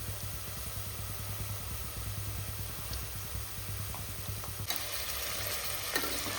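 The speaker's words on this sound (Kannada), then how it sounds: "ಉಳ್ಳಾಗಡ್ಡಿ ಆಮೇಲೆ ಪುದೀನ, ಒಣ ಮಸಾಲೆ, ಕಸ್ತೂರಿ ಮೇಥಿ ಎಲ್ಲ ಎಣ್ಣೆ ಒಳಗೆ ಚಲೋತ್ನಾಗ ಫ್ರೈ ಆಕತ್ತೈತಿ" Onion, mint, dry spices and kasuri methi frying in oil for a North Karnataka style meal maker pulao, a continuous low sizzle with a steady rumbling hum underneath, brighter crackling near the end.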